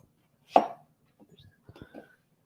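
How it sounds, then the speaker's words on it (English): Knife cutting onions on a board: one loud, sharp chop followed by a few quieter, scattered taps and knocks, close and isolated with no talking. "I'm going to just cut up my onions"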